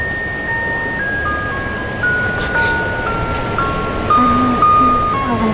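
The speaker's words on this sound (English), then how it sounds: "You guys hear that crazy, freaky, killer, midnight ice cream truck man music?" Ice cream truck music plays at midnight outdoors, a simple tinkling melody of steady electronic notes repeating over constant background hiss, fairly close and loud.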